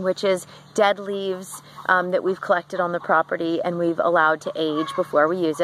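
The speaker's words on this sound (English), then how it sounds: "You can hear our chickens clucking in the background." Backyard garden chickens clucking in the background, faint and steady beneath a close voice talking continuously about preparing a garden bed with aged dead leaves.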